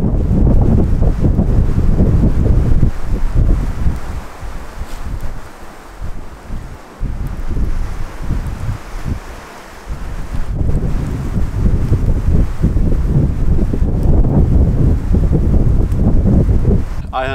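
Strong wind buffeting outdoors on a cold autumn solo camping trip, a loud continuous roar with heavy rumble that eases briefly in the middle before gusting hard again, mixed with a washing, surf-like background.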